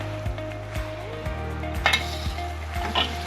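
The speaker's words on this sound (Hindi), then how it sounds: "अब गोश्त के साथ हमें मसाले के साथ गोश्त की अच्छी सी भुनाई करनी है 2-3 मिनट तक" Beef pieces sizzling with masala in a pot, a steady frying hiss broken by several scraping stirs of a spoon against the metal, close and fairly loud with no voice over it.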